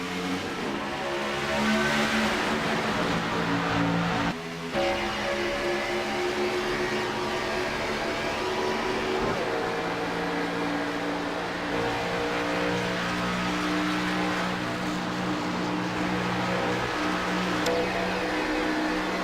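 Video-game stock cars roar past at Indianapolis Motor Speedway after the green flag, a dense, continuous engine drone with rising revs and passing cars, a brief dip early on, then sustained loud racing.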